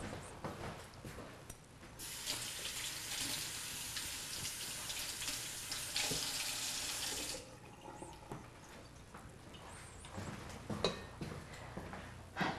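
Tap water runs in a kitchen sink while scallions are rinsed, a soft hissing stream that swells into a fuller rush for several seconds and then eases back, with light clinks and handling noises around it, fairly quiet and with no talking.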